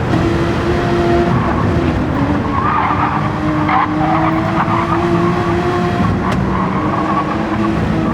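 A race car in a night-time racing video game skids with long tire squeal over a constant loud engine roar, its pitch dipping as it downshifts, dense and continuous throughout.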